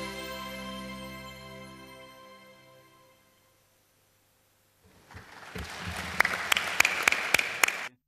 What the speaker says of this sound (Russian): Бурные аплодисменты, но еще не овации